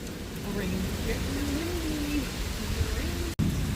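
Heavy rain pouring down in a steady, broad hiss close by, with a faint voice murmuring underneath.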